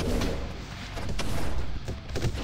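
Explosive projectiles detonating in a shooter video game, a dense continuous barrage of booms and gunfire that stays loud throughout, with several sharper blasts standing out.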